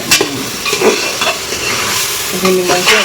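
Chicken stirred in a hot pan with a utensil, sizzling and scraping in short uneven strokes with clinks against the pan, close and loud, no talking.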